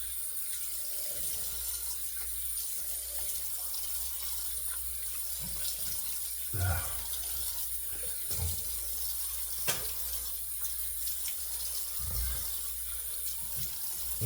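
Faucet running steadily into a sink for rinsing a face after shaving, a constant close hiss with occasional splashes, no talking.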